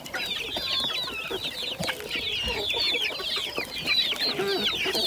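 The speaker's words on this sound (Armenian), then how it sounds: "Հետո տենանք մեր ճուտիկներին, որը ոնց է ուտում, որը ինչ է անում։" A flock of chicks clucking and cheeping as they peck at fresh grass, with busy overlapping calls throughout, fairly close and without speech.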